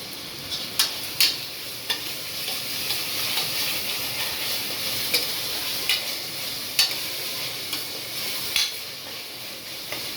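Mint and coriander leaves sautéing in a pan for egg biryani, a steady sizzling hiss broken by sharp intermittent stirring clacks and scrapes, close up with no speech.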